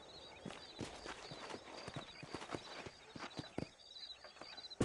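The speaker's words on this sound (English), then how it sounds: "These are fine horses." Horse hooves clip-clop in a western video game as a small herd moves near Armadillo, an uneven run of close hoof strikes with faint ambient tones behind.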